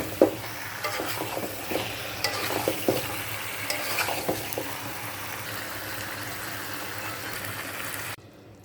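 Meat and potatoes frying in a pan for a home-cooked Bengali lunch, a steady close sizzle with scraping, clattering spoon strokes in the first few seconds that settle into continuous frying before cutting off near the end.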